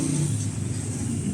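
An owner-type jeep engine runs with a low, rough idle rumble and a slight rev, heard close and fairly steady, with no clear talking.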